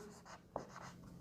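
Pen or chalk writing during a maths lesson, a run of faint, scratchy strokes with one sharper tap partway through.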